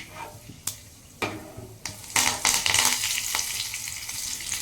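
Curry leaves dropped into hot oil for a chutney tempering, bursting into sharp crackles and then a loud, sustained sizzle and spatter close by.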